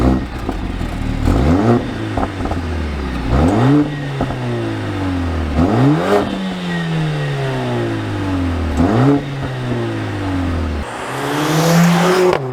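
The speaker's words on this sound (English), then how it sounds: "But the best 2-liter turbo engine I've heard all year was in the Mercedes-Benz GLA 45" A Mercedes-Benz GLA 45 AMG with a 2-liter turbocharged four-cylinder revs hard again and again, each loud rising sweep dropping back with shifts and crackles, about five pulls close up with no talk.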